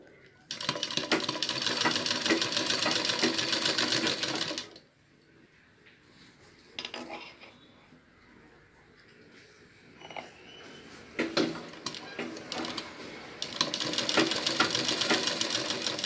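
Sewing machine stitching a pot neck blouse, with a steady loud mechanical run for about four seconds, a quieter stretch with a few clicks, then the close, continuous whir starting up again near the end.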